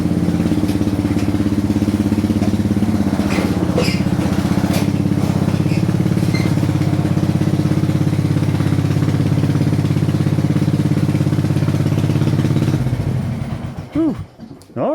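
A 2007 Craftsman rear-engine riding mower, run after sitting five years, drones steadily and loudly at close range for about thirteen seconds, then sputters and cuts out with a few uneven coughs.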